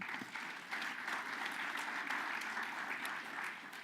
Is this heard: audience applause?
yes